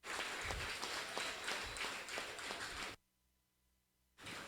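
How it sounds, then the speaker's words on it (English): Applause from an outdoor crowd for President Irfaan Ali at a boulevard opening: dense, fairly distant clapping for about three seconds, then a sudden near-silence, then the sound cutting back in. "Let us give the President, Your Excellency, the biggest applause."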